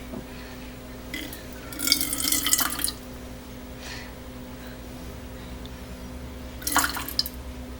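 Distilled water runs in two short bursts, a longer splashy pour followed later by a brief second trickle, close by with a low steady hum underneath and no talking.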